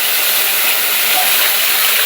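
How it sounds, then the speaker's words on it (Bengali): Curry being sautéed in a pan while cooking, a constant loud hissing sizzle filling the short stretch without break, no talk. "ভালো করে কষিয়ে নিচ্ছি"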